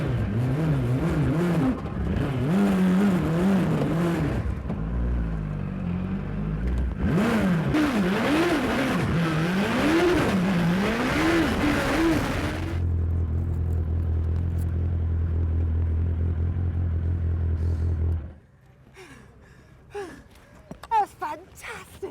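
A Dax Rush sports car accelerates hard at Santa Pod, its engine note rising and revving loudly over two surges, then settling into a steady low drone before cutting off, with people talking and gasping throughout.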